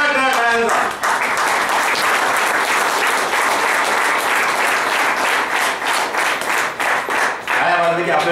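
Sustained applause from a lecture hall audience, loud and dense, clapping steadily for several seconds with a brief dip before swelling again.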